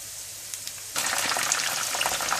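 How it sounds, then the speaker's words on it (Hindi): Chicken pieces for chicken Manchurian dropped into hot oil, bursting into a loud, steady, close sizzle that begins suddenly after a short quiet start and holds to the end. "इसलिए थोड़ा थोड़ा करके आप फ्राई कीजिएगा।"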